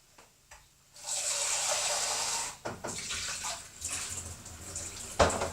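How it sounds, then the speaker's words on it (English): Water gushes steadily from a kitchen tap while preparing chicken and chorizo paella, a loud rushing flow that stops briefly midway, then resumes more unevenly. "run the tap and get hot water rather than cold water"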